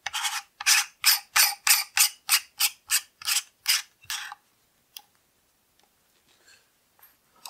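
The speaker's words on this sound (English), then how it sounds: "This will now screw back in." A pump cover on a Protium 2.0 pump reservoir is screwed back in, producing about a dozen close, evenly spaced scraping thread rasps, then stopping, followed by a few faint small handling clicks.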